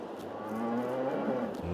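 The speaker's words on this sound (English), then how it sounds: "Let's quickly check on our cows." A cow on a farm in the Azores gives a single long, low moo, close and fairly clear, alone without any talk.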